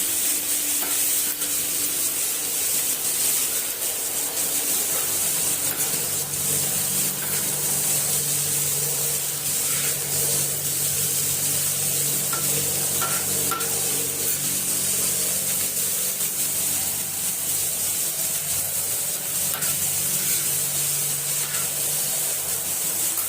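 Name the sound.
frying food in a pan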